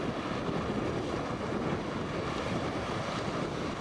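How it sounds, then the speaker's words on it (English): Steady wind over Lake Victoria roars continuously into the microphone, loud and unbroken, with a broad rushing texture and no voices. "It's a fair bit of wind"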